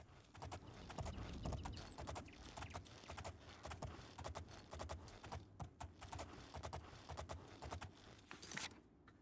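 Hooves of the horse Shadowmere in the video game Elder Scrolls Oblivion clatter in a fast, steady rhythm of clip-clops, faint and alone, with some jangling mixed in.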